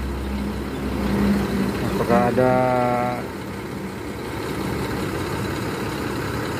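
Bus engine idling with a low, steady rumble while the driver checks the motor, heard under close talking.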